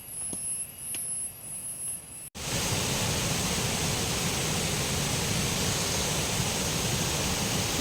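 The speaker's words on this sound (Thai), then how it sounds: "เสียงน้ำตกดังแล้วค่ะ" Chet Khot Nuea waterfall in Chet Khot–Pong Kon Sao park, Saraburi, rushes as a loud, steady broadband roar that cuts in abruptly after a couple of seconds of quieter forest ambience and continues unbroken.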